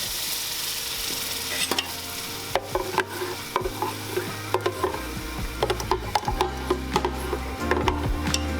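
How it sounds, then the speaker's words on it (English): Tomato puree hits browned garlic in a hot pan, with steady sizzling and repeated scraping stirs of a spoon against the pan, close and fairly loud, with no voices. "Now we're gonna add the tomato puree in there."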